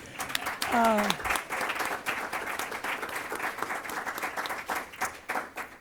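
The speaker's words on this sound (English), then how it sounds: "We'll take a moment to clap." Scattered audience applause at a school district board meeting, light and fairly steady throughout, with a brief voice heard near the start.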